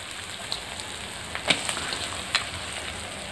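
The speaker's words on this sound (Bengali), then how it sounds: "মশলাটাকে এবার একটু কষে নিচ্ছি।" Spice masala frying for a country chicken curry, a soft steady sizzle with a few sharp pops and stirring sounds, close and fairly quiet.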